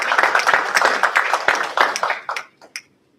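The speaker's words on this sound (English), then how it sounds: "Give them a round of applause." A round of applause for grantees at a community meeting, a burst of close, dense clapping that thins out and dies away to a few final claps.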